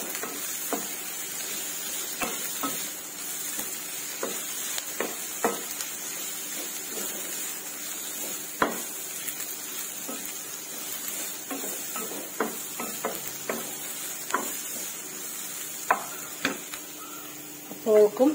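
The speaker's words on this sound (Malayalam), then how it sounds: "ഈ മുളക് നന്നായി ഇളക്കി കൊടുക്കാം" Chillies are stirred and fried in a pan for chutney, giving a soft steady sizzle broken by frequent scraping and tapping of a utensil against the pan, with a person speaking at times.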